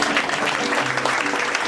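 An audience at the Revolutionary Voices 2018 live performance claps: dense, close, continuous applause filling the short moment, with faint voices mixed in.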